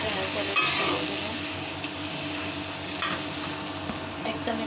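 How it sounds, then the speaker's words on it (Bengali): Browned onions and lentils frying in a little oil in a pan, a dense continuous sizzle with occasional scraping clinks of a utensil against the pan, close and fairly loud, no talk. "পেঁয়াজটা লাল হয়ে গেছে, আমি ডালটা দিয়ে দেবো"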